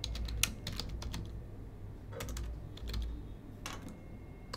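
Keys clacking on a computer keyboard while code is entered, short bursts of fast typing separated by brief pauses, close and clear over a low steady room hum, nobody speaking.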